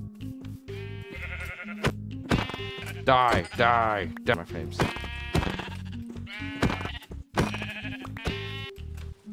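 Repeated sheep bleats from Minecraft, a blocky sandbox video game played in hardcore mode, sound close and loud in several bursts, mixed with someone talking over them.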